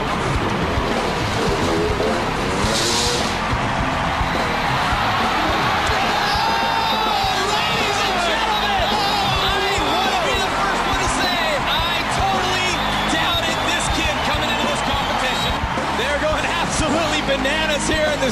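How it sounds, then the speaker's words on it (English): Arena crowd at an FMX freestyle motocross event inside the Staples Center roars and cheers continuously, a dense wash of voices swelling throughout, with some announcer-like talk blended into the din. "Let's listen to the crowd and watch as Chuck goes for history."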